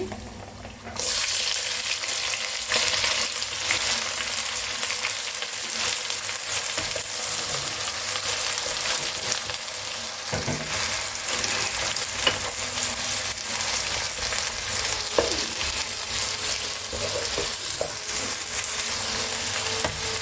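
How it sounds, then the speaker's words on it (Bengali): Four large onions frying in hot oil in a pan for a Bengali mutton curry, a loud, steady sizzle starting suddenly as they hit the pan, with occasional stirring scrapes and clinks throughout. "পেঁয়াজগুলো ভালো করে ভাজবো।"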